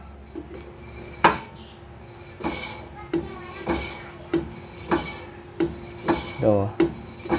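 Light metallic scraping repeats in a steady rhythm, a soft rasp about twice per second, as a car's rotating brake drum brushes lightly against its brake lining up close, the lining adjusted to just touch the drum.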